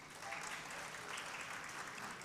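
Graduates at a spring community college commencement ceremony applaud in a large hall, a soft, even, distant-sounding roar of many hands clapping at once that continues without a break.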